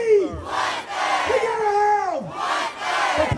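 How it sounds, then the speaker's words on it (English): College students at a higher education rally in front of the Alabama State House chant and shout in unison, a loud crowd of voices rising and falling in rhythmic bursts. "Executive Director Gordon Stone excited a crowd of students who were shouting for a change"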